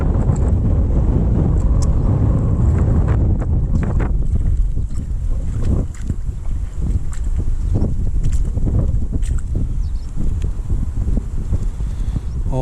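Strong wind buffets the microphone on a breezy beach, a loud continuous low roar with gusty rumbles and faint surf beneath, with no talking.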